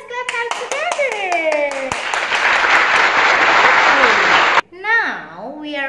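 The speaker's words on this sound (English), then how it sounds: "Let's clap hands together." A few claps come under a cheerful voice, then a dense burst of applause lasts a few seconds before the voice returns.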